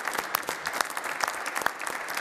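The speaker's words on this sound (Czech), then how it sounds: "Tak já musím taky zatleskat teda." Hand clapping in a talk-show studio setting, a rapid run of sharp, close claps repeating steadily for a couple of seconds without speech.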